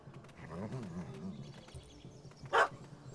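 A puppy in The Witcher 3 gives a few soft, low yips and whimpers, then one sharp, louder bark near the end, all fairly quiet against faint background ambience.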